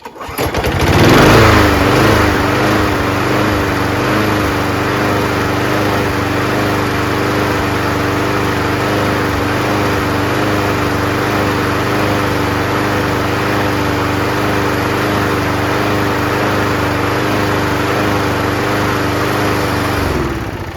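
A Toro GTS recycler snowblower with a 6HP Briggs & Stratton Quantum engine catches and runs at a steady, loud drone close by, holding an even, buzzing note for about twenty seconds with no talk.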